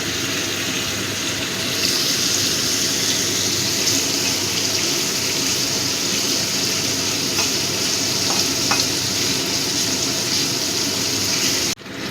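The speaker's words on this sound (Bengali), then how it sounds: "পনিরগুলো একটু লাল করে ভেজে নেব।" Paneer pieces frying in a pan give off a steady, close sizzle with a constant bright hiss and a few faint pops, running unbroken before cutting off abruptly near the end.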